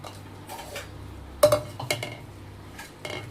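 Chopped onion pieces drop into a mixer jar, giving a few sharp clattering knocks against the jar, separated by quiet pauses and up close.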